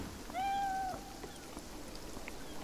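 A cat meows once, a short rising-falling call, in the video game Beyond Eyes, set against a steady outdoor ambience of water or rain.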